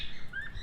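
Pet bird being trained to sing, giving a short, faint high chirp or whistle over steady low background noise.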